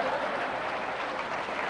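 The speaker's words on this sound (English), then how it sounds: "Usually I get applause when I do that." A crowd applauds in a steady, even wash of clapping, fairly quiet and distant, with no voices over it.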